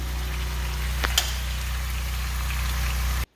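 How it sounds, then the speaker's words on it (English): Chicken with a little water simmers in a pot, a steady low bubbling and hum close by, with a faint clink midway before it cuts off. "And then I just let it simmer."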